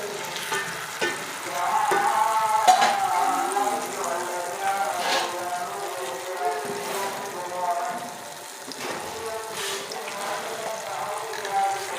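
Sweet meethay pooray batter frying in hot oil over a low flame, a steady crackling sizzle that swells and eases, with a voice talking over it.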